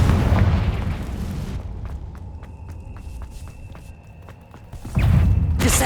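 In the Hogwarts Legacy video game, the Confringo blasting spell hits with a heavy booming explosion, after which a quieter stretch with faint tonal game sounds gives way to a second loud rumbling blast at the end.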